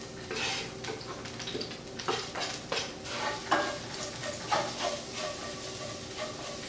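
Two garlic cloves sauté in a pan over medium-low heat, with a soft continuous sizzle broken by a series of utensil clinks and scrapes against the pan, close and fairly quiet.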